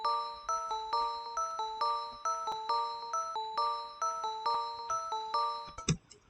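Bright bell-like melodic sample pitched up 12 semitones in Maschine, a repeating pattern of crisp chime notes in a steady rhythm, ending with a short click and noise burst.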